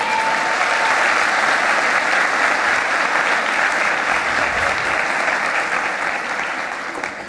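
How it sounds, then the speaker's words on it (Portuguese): Sustained, loud applause from a church congregation during a worship service, a dense wash of clapping that holds steady throughout and fades slightly at the end. "Dá um aplauso a Jesus."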